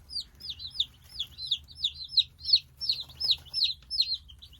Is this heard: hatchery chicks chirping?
yes